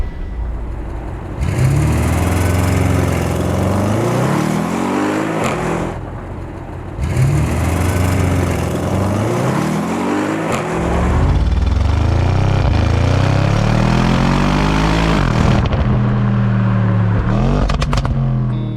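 An Audi RS6 Avant C7.5 engine revs hard several times, each loud, close rise in pitch falling away before the next, with a sustained high-rpm roar near the end.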